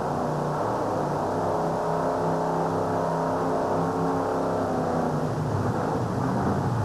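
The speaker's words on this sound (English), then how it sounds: "He clears the throttle a couple of times, but it doesn't sound much better." A monster truck engine sits at the starting line of a 1991 USHRA race in Worcester with a mechanical problem, roaring in a loud, rough, continuous drone with uneven throttle swells.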